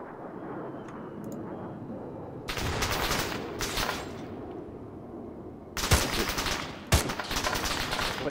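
Sniper fire in the video game ARMA 3, loud sharp shots with long rolling echoing tails, in three separate bursts over a low ambient hiss.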